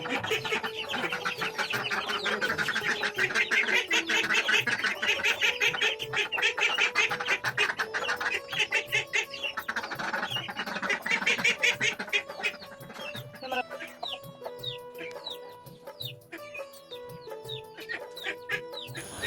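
Ducks in an Assam village yard quack loudly and continuously, a dense overlapping chorus as they are let out to feed, with some clucking fowl mixed in and the noise thinning toward the end.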